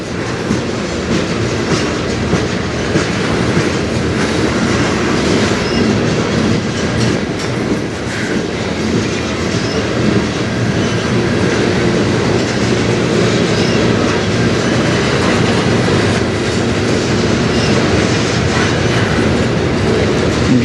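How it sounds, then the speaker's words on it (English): A CN freight train passes on the Strathroy Subdivision. Its loud, continuous rumble and clatter of wheels on rail carries steadily throughout, close by, with no voices. "I'm just so glad to be getting another train here."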